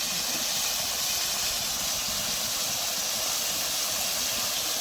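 Potatoes dropped into a pan of well-fried spice paste for a fish and potato curry, giving a steady, loud, broadband sizzle and hiss that continues evenly throughout with no talking.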